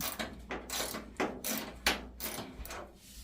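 Ratchet cranking bolts into an aftermarket fender extension on a Chevy Camaro convertible, a run of quick clicking bursts in uneven rhythm, close and moderately loud with no talk.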